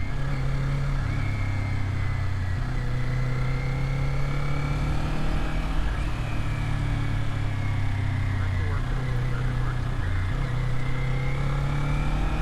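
Motorcycle carving through corners on a scenic American road, either a Kawasaki Z400 or a Yamaha Tracer 900GT, with a steady engine drone rising and falling as it shifts, under heavy wind rush and the rider talking.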